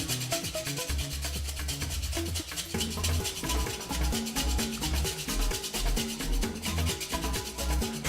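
Frozen ginger is scraped hard against a grater in quick, even back-and-forth strokes, a loud, close, gritty rasping that repeats steadily with no talk.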